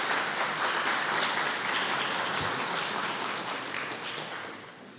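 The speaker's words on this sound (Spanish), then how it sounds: "Esos aplausos adelantados son música para mis oídos" Dense applause from a lecture audience at a summer course session on Mexico's constitutions, steady and full for about four seconds, then starting to thin out toward the end, with no talking over it.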